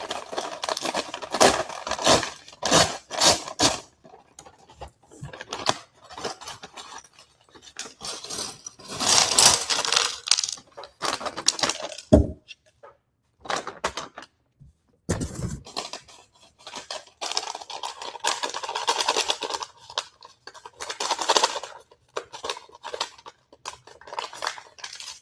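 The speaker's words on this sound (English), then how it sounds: "Now let's open bag 15 to hear the sweet sound of ASMR." Crinkly plastic bag holding LEGO pieces being opened and handled up close, with bursts of crackling rustle and small pieces rattling, broken by short quiet pauses.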